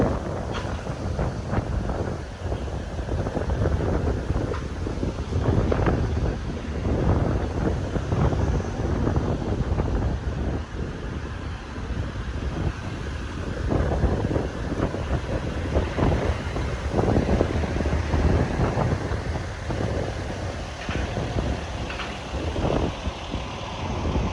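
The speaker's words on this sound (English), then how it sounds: "It's so windy, right?" Strong wind roars and buffets steadily outdoors on the Philadelphia waterfront at Penn's Landing, a continuous rushing blast with gusty rumble throughout.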